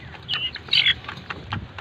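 Two-month-old chickens and young roosters cluck and chirp close by, with short, scattered calls and a few brief squawks over a quiet background.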